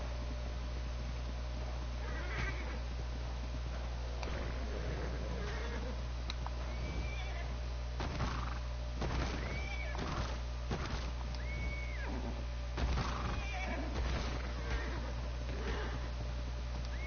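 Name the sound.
horse neighing in video game ARK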